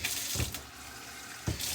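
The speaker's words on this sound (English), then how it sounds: "We got some warm water going." Warm, steaming water runs steadily from a kitchen tap into a sink, a continuous close rushing splash with two brief louder surges.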